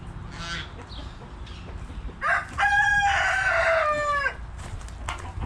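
A local village rooster lets out one loud, close cock-a-doodle-doo lasting about two seconds, with faint clucks and outdoor background around it and no talk.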